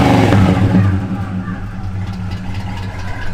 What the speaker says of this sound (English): Give it a rev.